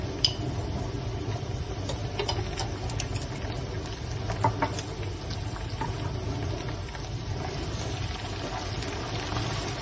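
Ginger garlic paste hits lightly browned onions in a pan, producing a constant, fairly loud sizzle and hiss with scattered small pops for about ten seconds, without talking.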